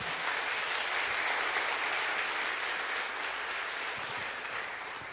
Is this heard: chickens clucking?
no